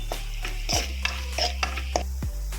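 Chicken mandakki masala frying in a pan, with soft spoon scrapes and stirs repeating through a steady low sizzle, close by and with no voices.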